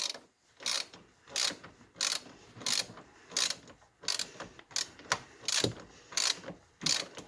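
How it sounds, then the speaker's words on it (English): A hand ratchet tightens long, blue-Loctited bolts on the front suspension of a 2002 Suzuki Vinson 500 ATV. It gives a steady series of close, sharp clicking bursts, roughly two per second, with quiet gaps between strokes. "So you just keep ratcheting away until they're tight."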